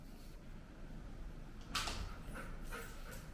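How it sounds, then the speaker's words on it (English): Dogs waiting at home give faint whimpers and short yips, with a brief burst of sound partway through and quieter whines after it, against a low, steady room background. "The dogs are patiently waiting for him."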